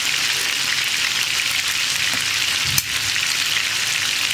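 Food frying in hot oil on a stove burner, a dense continuous crackling sizzle held close and even, with one brief sharp knock near the end.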